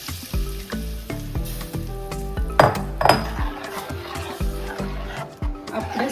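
Buttermilk is stirred into a cucumber buttermilk curry in a metal pot, with repeated clinks and scrapes of a spoon against the pot, a light sizzle underneath and brief talk.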